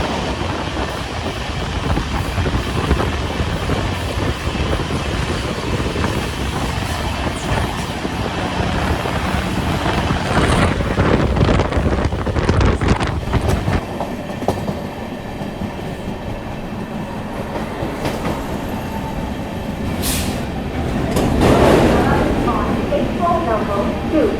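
A Bilaspur–Tirupati express with new LHB coaches running along the line, a steady loud rumble of wheels and carriage noise throughout, with rattling swells and a brief squeal near the end, under scattered talk.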